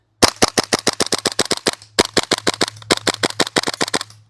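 A KWA Tac-9 airsoft replica fires rapid, evenly spaced sharp cracks in three long bursts with brief pauses between, loud and close over a low steady hum.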